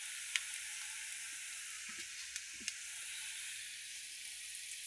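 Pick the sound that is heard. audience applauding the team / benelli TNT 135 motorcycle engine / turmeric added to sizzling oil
turmeric added to sizzling oil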